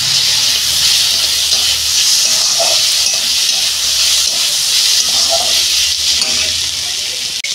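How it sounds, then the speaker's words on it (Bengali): Tomato goes into a hot pan of ginger-garlic paste and sizzles with a loud, steady hiss that fills the whole stretch, while a voice is faintly heard underneath. "টমেটোটা দিয়ে দিচ্ছি"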